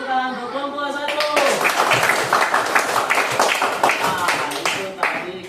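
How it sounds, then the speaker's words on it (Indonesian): Schoolchildren in an elementary classroom clap for a group of classmates, with brisk, close applause rising just after a voice speaks and continuing steadily before tapering off. "tepuk tangan untuk kelompok 1"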